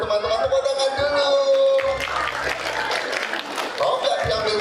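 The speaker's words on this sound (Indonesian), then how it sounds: "Ada dompet teman-teman, tepuk tangan dulu." Children in a classroom lesson about saving money clap together in a short burst, mixed with chatter and light laughter, while a teacher's voice carries over the applause.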